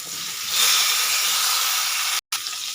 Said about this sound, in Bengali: এবার এতে দিয়ে দেবো আমি সিদ্ধ করে রাখা আমলকিগুলো